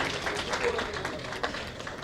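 An audience at a film trailer launch press meet gives steady applause, a dense wash of many hands clapping together at moderate volume.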